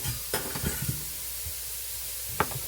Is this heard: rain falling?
no